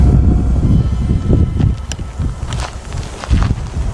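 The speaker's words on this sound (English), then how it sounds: "Probably just wind." Cold wind blows across a cemetery at night, a steady loud rushing buffet hitting the microphone, with faint rustling and a few light knocks underneath and no voices.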